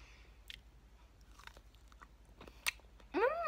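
Raw mushroom dipped in sauce being bitten and chewed up close, soft wet crunches in a short sequence, ending with a brief pleased vocal hum.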